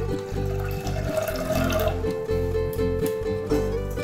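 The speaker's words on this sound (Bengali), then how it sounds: "এবার ওই বাটির মাপেই 1 বাটি জল দিয়ে দিলাম" A bowl of water poured into a cooking pot for a raw jackfruit dish, a close continuous splashing pour over background hum.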